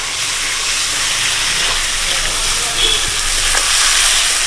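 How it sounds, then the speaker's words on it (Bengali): Magur fish pieces sauté in thick spice masala with a loud, steady hiss and sizzle, joined by occasional soft stirring scrapes and no speech. "এরকম মশলার ভিতরে মাছ দিয়ে আস্তে আস্তে করে কষাতে থাকবো"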